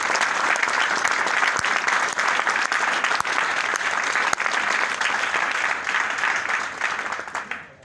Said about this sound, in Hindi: दोस्तों जोरदार तालियां हो जाए महागुरु के लिए।